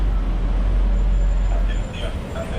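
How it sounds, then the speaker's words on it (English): Articulated bendy bus rolling along a street in Peguera, Mallorca, its broad low engine rumble and traffic noise close by, easing off toward the end with faint higher tones, a voice speaking over it. "There's a bendy bus."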